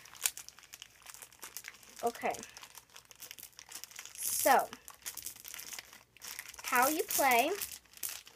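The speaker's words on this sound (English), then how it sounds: "I just need to first get the marbles out of this plastic bag." Marbles being taken out of a plastic bag, with crinkling bursts of plastic rustling near and fairly loud, coming in several separate handfuls over a few seconds while a voice talks throughout.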